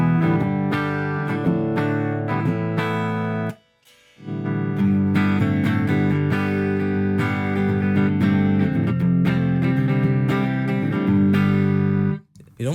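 An electric guitar is played dry through an amp with no effects and no slapback, giving busy, bright strummed chords and picked notes up close. The playing stops briefly once and then resumes, with no talking over it.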